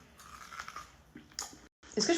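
Close biting and chewing on a pastry filled with kunefe, crunchy bites and mouth sounds mixed with voices talking.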